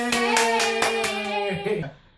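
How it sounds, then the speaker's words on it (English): Several quick hand claps in a rhythmic run over a sustained tone, close and fairly loud, fading out at the end. "You gotta learn how to clap with your"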